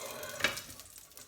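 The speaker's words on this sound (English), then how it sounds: "So that's the cooking method, frying." Tomato frying in a pan, with a quiet, close sizzle and a sharp brief clatter as it is turned or stirred, then faint crackling fading out.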